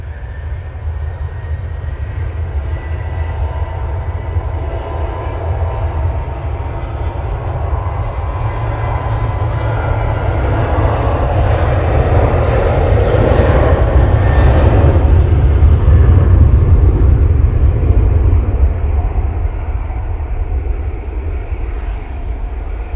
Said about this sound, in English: Here comes the Ryanair.